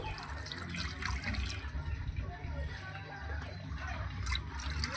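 Water runs and splashes steadily while semolina is rinsed in a bowl, a continuous close trickling wash with a faint voice underneath.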